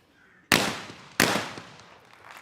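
Two loud, sharp shotgun blasts about 0.7 seconds apart at an outdoor women's junior skeet final, each with a long decaying echo, and no voices.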